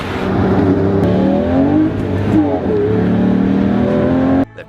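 A Lamborghini Murcielago LP 640 with a 6.5-liter naturally aspirated V12 revs hard in several rising and falling sweeps, loud and close, then cuts off abruptly near the end.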